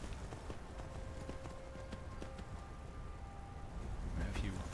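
Conjured horses in Skyrim clop along with quick, light hoofbeats under a steady background hiss, while a voice talks over them.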